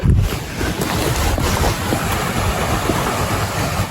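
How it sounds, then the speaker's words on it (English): Steady rushing water from a small waterfall, continuous and fairly loud, with wind buffeting the microphone and no talking. "Here's that first little waterfall again."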